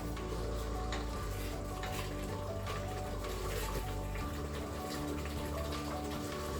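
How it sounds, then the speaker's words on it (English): Meat sauce seasoned with salt and pepper, stirred and left bubbling on saute mode in a Crockpot Express pressure cooker, giving a steady close sizzle with spoon scrapes against the pot throughout. "Now let's give that a good stir. I'll leave that to bubble for a few minutes."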